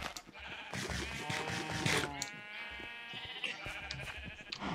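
Several sheep in the Minecraft game bleat close by in overlapping wavering calls, one long bleat after another with little gap between them.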